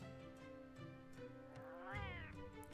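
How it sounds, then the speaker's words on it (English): Talking cat meows in Final Fantasy XIV, a clear vocal mew with a rising then falling pitch near the end over a soft droning game background; quiet overall with no talking. "A talking cat?"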